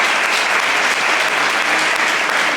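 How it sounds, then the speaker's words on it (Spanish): Dense, steady applause from a theatre audience at a tribute screening of a stage play, loud and continuous throughout with no voices on top. "Un aplauso grande a todos los que están arriba"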